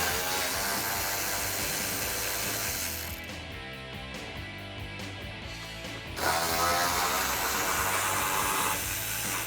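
A ratchet wrench loosens the 10mm nuts on the back of the bumper of a 2005-2009 Ford Mustang, giving rapid, continuous clicking close up, pausing briefly midway before resuming.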